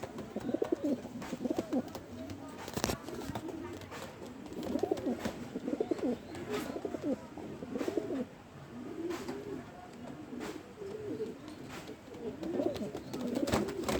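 Racing pigeons coo in repeated throaty phrases close by, rising and falling continuously, with faint clicks and rustles in the background.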